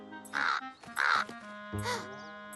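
Three loud, harsh caws ring out close by in quick succession, each a raspy bird call standing alone against quiet.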